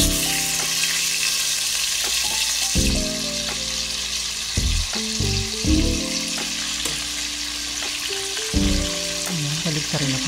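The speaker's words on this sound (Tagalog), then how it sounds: "maglagay na po tayo ng mantika para mag-prito po dun sa minarinade natin chicken thigh." Marinated chicken thigh frying in hot oil in a pan, a loud constant sizzle and crackle with occasional scrapes and clanks of a utensil stirring or turning the meat.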